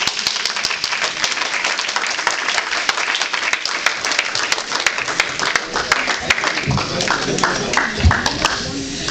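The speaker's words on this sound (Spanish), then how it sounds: "Den un aplauso al Señor, mis hermanos" A church congregation applauds for the Lord during a service, sharp individual claps standing out over a steady crowd of clapping, with a voice speaking over it near the end.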